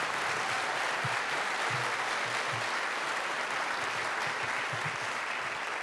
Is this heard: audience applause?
yes